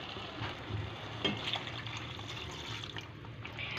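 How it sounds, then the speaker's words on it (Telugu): About a cup of water pours into a simmering chicken gravy curry with a soft, steady splashing and trickle, fairly quiet and close, with no talking. "ఇప్పుడు దీంట్లోకి 1 కప్పు దాకా వాటర్ని వేసేసుకోవాలి"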